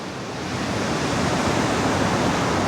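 Steady roar of ocean surf blended with strong wind buffeting a microphone at the seaside, a dense, continuous wash of noise with no pauses and no voices.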